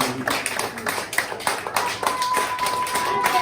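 A church congregation claps in steady rhythm to acclaim Jesus, the repeated hand claps sounding close and loud over a faint sustained tone.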